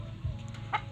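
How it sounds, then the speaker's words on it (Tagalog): A hen and rooster in a backyard pen giving a brief cluck, with one soft low note followed by a short higher cluck, close and moderately quiet, lasting under a second. "Isa pong inahin at isa pong tandang."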